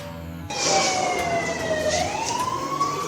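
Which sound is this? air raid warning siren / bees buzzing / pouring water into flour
air raid warning siren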